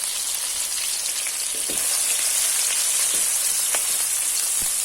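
Onions frying in a pan for a Thai-style fish curry, a steady close sizzle with broadband hiss throughout, punctuated by a few louder pops and crackles, no voices.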